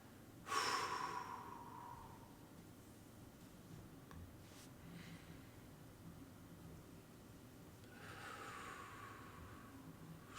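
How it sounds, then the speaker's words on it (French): A slow, breathy exhale during a relaxation breathing exercise, with soft airy bursts near the start and again near the end over a quiet background hiss. "Et ensuite, on expire."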